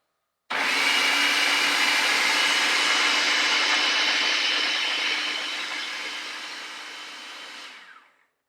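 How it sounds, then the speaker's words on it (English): A food processor purees pumpkin for a pie filling, giving a loud, steady motor whir with no talk. The whir holds for several seconds, then gradually fades and winds down at the end. "We're just going to turn on the food processor and let it do its job."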